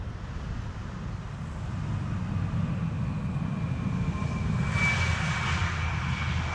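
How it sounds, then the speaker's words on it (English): Vueling airliner coming in to land at Amsterdam Schiphol on runway 18R, a steady broad jet roar that builds slowly and swells louder near the end, with a faint whine riding above it. "A Vueling coming in."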